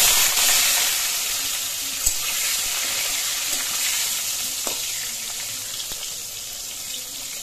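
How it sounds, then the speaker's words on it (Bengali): Eggplant and sweet pumpkin pieces frying in a pan give a steady, close sizzle with a faint crackle, running without pause and with no talk. "বেগুনগুলোকে ভাজা করে নিচ্ছি।"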